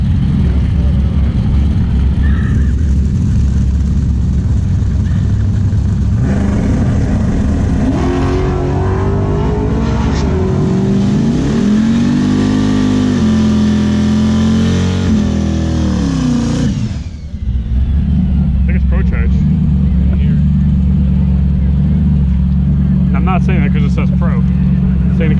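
A supercharged Suzuki GSX-R 1000 race motorcycle engine roars loud and near, revving and climbing through gears in one sustained acceleration pass before dropping to a rough idle, with voices talking over it.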